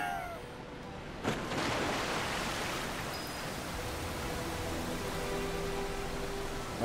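A waterfall in the video game Final Fantasy 7 Rebirth roars as a dense, steady wash of rushing water, loud and continuous with no voices over it.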